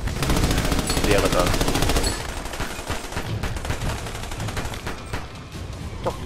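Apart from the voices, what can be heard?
gunfire in video game Army of Two: The Devil's Cartel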